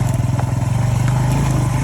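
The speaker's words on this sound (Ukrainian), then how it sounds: "Так хорошо на мотоциклі їздить." A motorcycle rides along a village road in the Poltava region, its engine close and loud with a fast, even pulsing throb that holds steady the whole time.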